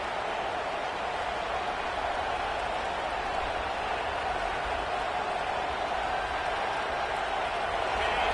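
Football stadium crowd, a dense steady roar from a large distant mass of fans, unbroken and even throughout with no distinct voices standing out.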